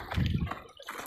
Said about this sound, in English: Another little waterfall here.